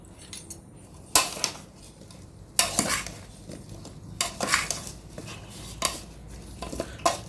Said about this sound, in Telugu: స్పూన్ తీసుకొని కలుపు మమ్మీ